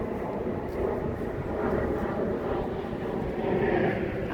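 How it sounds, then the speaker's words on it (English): Jet airliner coming down over Kew Gardens, London, heard as a continuous low rumbling roar overhead that builds toward the end, fairly loud and unbroken, with no voices over it. "Here we go, more plane coming down."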